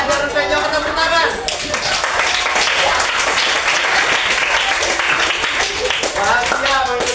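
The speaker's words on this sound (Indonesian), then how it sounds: "tepuk tangan" A classroom group applauds during a physical education lesson, dense continuous clapping that stays loud throughout, with voices mixed in at the start and end.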